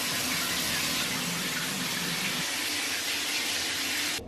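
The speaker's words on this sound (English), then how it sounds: "I'm gonna head into the shower." A domestic shower runs steadily, a close, even hiss of falling water that holds for several seconds and cuts off sharply at the end, with no one speaking.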